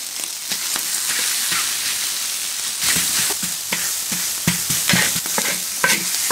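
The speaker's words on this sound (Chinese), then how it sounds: "锅里放一点油， 再把火腿肠炒香， 再把玉米放下去。" Rice stir-fried in oil with diced ham sausage and corn: steady sizzling with repeated scraping and clacking of a spatula against the pan, close and continuous, with no voices.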